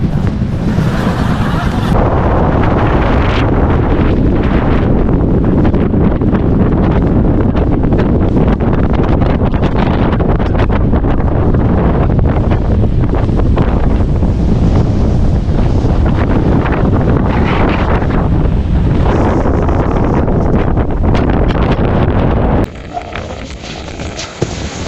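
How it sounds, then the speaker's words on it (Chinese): Loud, continuous wind roars and buffets the microphone for nearly the whole time, a heavy rumbling gale that drops away abruptly near the end. "来到达里湖这边之后，突然就8级大风，不敢往前走了。"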